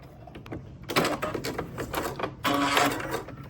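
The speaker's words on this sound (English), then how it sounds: "let's hop on the sewing machine and I'll show you how. Carefully stitch" A home sewing machine runs bursts of stitching along a quilted letter bunting seam, a short faint start then two louder sustained whirring runs, close up with no talk.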